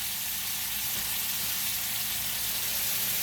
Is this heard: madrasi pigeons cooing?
no